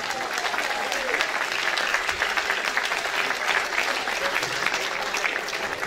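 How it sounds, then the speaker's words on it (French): Sustained audience applause at a caravan festival show, dense and steady throughout with a full crowd clapping continuously and no break. "Sous les applaudissements"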